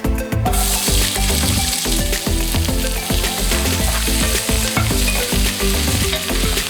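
Onions and mushrooms fry in hot oil in a pan for a beer and beef stew, a loud constant sizzle layered with rhythmic scraping and knocking of a utensil against the pan throughout; no talking.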